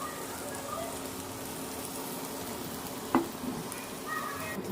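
Gravy poured into hot oil with onion and garlic sizzles in a steady, dense hiss throughout, with a brief clink partway and a faint voice under the frying.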